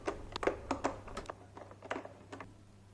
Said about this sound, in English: Now it's time to tighten the top 2 screws